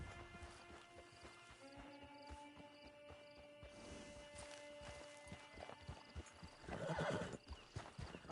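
Hooves clip-clop at a steady walking rhythm while a horse whinnies partway through, with faint ambient tones beneath, in Red Dead Redemption 2 Online.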